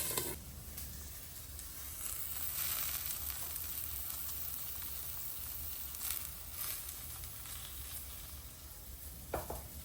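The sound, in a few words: eggs frying in a stainless steel pan with the lid on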